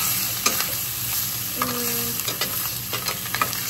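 A spoon scrapes and stirs pasta through sauce in a large cooking pot, with soft wet sloshing and gentle sizzling, close and moderately loud, a few distinct knocks against the pot.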